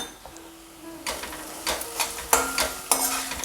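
Onions frying in a pan with turmeric and salt added, a quiet start giving way to steady sizzling with several crisp spatula scrapes and clinks against the pan, no speech.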